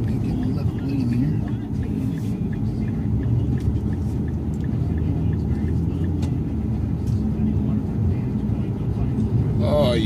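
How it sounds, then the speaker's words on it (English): From inside a car driving through morning traffic, a steady low road and engine rumble carries on for several seconds. A voice speaks briefly over it. "Oh, you gotta love morning traffic."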